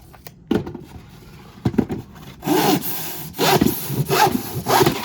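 Hand saw cutting insulation to fit the floor of a VW T4 camper van, starting with a few scattered rasps, then settling into a series of loud, close back-and-forth strokes.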